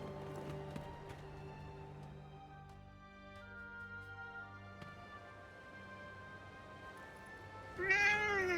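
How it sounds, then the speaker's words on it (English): A cat in the game Forspoken gives a clear, rising meow near the end, heard over a steady background of ambient music. "Oh, look, another cat."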